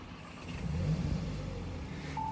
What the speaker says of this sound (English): It's got a kind of a low bassy tone to the exhaust.